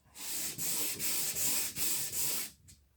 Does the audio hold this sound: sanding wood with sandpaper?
yes